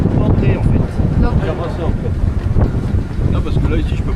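Strong wind gusting across a microphone on a sailboat as the wind strengthens, loud rushing buffets with water and boat noise, while someone speaks French over it.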